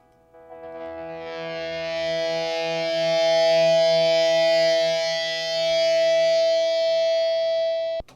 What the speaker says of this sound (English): And the same thing here with the distorted swells.